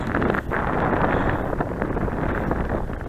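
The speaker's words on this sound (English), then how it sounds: "Curious to see what the wind's picked up to." Steady, heavy wind buffeting a microphone at an RC model flying field, a loud continuous roar with gusty swells and brief dips, no voices.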